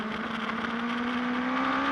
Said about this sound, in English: Let's have a look as the revs pick up there.